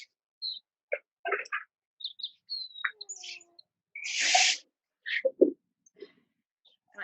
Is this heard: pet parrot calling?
yes